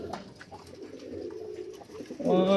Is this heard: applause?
no